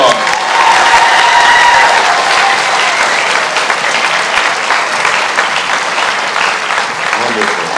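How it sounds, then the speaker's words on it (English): Steady, loud applause from a crowd at a continuing education achievement ceremony, continuous clapping filling the whole stretch without pause. "give every one of these wonderful individuals a round of applause"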